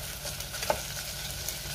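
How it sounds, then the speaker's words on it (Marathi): Onion and tomato sautéing in a pan for dal, a steady moderate sizzle with a single clink of the spoon partway through and a low hum beneath; no talking. "आणि टोमॅटो सुद्धा मी 2 मिनिटं व्यवस्थित परतून घेणार आहे"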